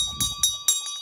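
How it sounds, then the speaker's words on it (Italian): A bell rings in a few spaced, bright strokes with a steady ringing tone, heard at a climbing spot at the Gandin tower on the Grignetta, over a low rumble in the first half. "Suona la campana."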